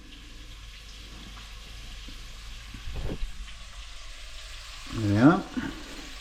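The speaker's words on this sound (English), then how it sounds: "You probably just hear that the onions are starting to sizzle away" Onions and bacon sizzle in a frying pan for a bolognese sauce, a soft steady hiss that swells into a louder crackle near the end as the pan is stirred, while someone speaks briefly.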